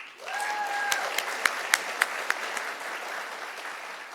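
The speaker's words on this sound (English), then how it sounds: "please rise so we can applaud you" A room full of people applauds at a city government address, steady clapping with a few sharper close claps standing out, fading slightly toward the end.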